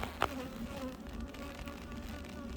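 Honeybees buzz in a steady, close drone from an opened hive, with a brief tap near the start and faint handling noise beneath the humming.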